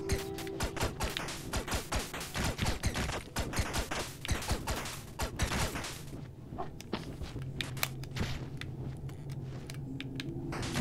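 A character fires a gun in the video game Owlboy, shooting side to side in twin-stick style: rapid bursts of repeated shots, steady and close, layered over game music and sound effects.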